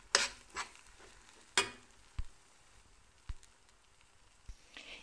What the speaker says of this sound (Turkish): Şimdi helva kavurur gibi pembeleşinceye kadar kavuracağım.